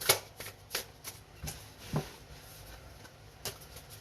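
Oracle cards shuffled by hand at a table, a string of quick riffling bursts and soft flicks repeating unevenly, close and fairly quiet.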